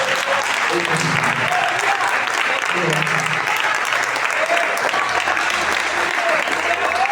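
Loud, continuous congregational applause during a church service, many hands clapping steadily while voices speak and call out over the clapping.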